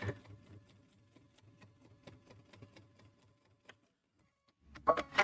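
Sewing machine stitching through a fabric bag panel, a rapid even needle chatter running for about three seconds, then stopping, followed by a short burst of handling clatter.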